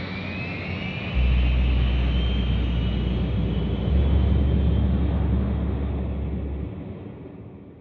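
Steady, loud airliner cabin drone from a plane in flight, a broad rumble with a low engine hum swelling in and out and a faint high whine fading over several seconds, no talk.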